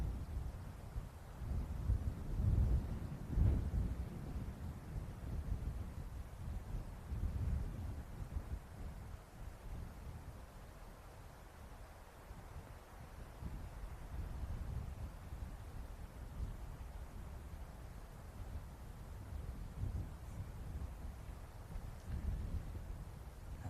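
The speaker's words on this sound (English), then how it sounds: "Wind suddenly really picks up now too." Gusty wind roars across an open golf course during a junior championship, a continuous low rumbling buffet that swells and eases over the whole stretch with no clear voices.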